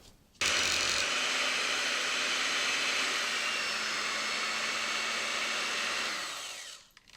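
An electric hand mixer whirs steadily and loudly for several seconds as its beaters work powdered sugar into frosting, then winds down and stops.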